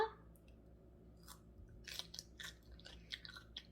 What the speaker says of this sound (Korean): 그러니까 오이 먹어보겠습니다.